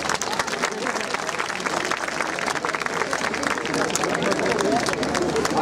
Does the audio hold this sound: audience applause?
yes